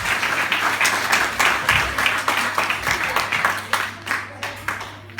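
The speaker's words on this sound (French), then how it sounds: "on peut les applaudir très fort." An audience claps loudly at a stage hypnosis show, a dense burst of applause that thins into scattered, rhythmic claps toward the end.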